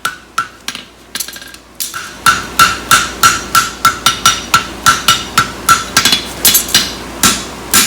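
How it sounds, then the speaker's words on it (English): A hammer flattens metal while a French hind straight heartbar horseshoe is forged, striking in a loud, steady rhythm of about twenty ringing blows close by, with no talking. "Just flattening it up real good."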